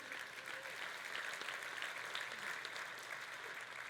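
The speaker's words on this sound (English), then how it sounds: "Applause for Tracy," An audience at the 2019 Jenkins World closing keynote applauds Tracy Miranda with steady, even clapping that sounds somewhat distant and soft, with no voices on top.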